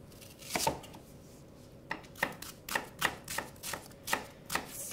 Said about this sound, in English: Chop shallot.